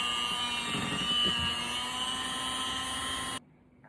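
An electric mixer whirring steadily through peanut butter pie filling, a close, even motor whine with some bumps from the beaters, cutting off abruptly near the end.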